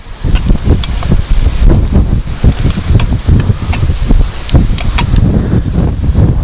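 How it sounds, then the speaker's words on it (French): Loud, continuous wind buffeting the microphone, with gusty low rumbles and rustling throughout. "il y a vraiment trop de vent"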